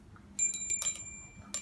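A pet lorikeet rings a small bell several times in quick, uneven strikes, each a bright metallic ding with a short ring-out, close by and with no one talking.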